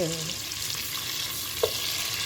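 Food stirred and sizzling in a frying pan while beef with carrots is cooked, steady crackling fry with a brief clink of a utensil partway through.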